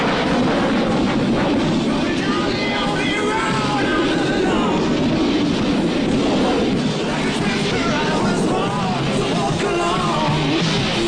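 An F-15 Eagle jet at an air show roaring continuously and loudly at low altitude and high speed, a dense sustained jet roar with crowd noise and an announcer's voice under it.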